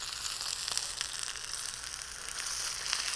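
Salmon fillet with a sugar glaze frying in a pan, giving a steady, soft sizzle with faint crackles throughout and no talking.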